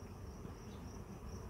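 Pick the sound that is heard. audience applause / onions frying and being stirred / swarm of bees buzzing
swarm of bees buzzing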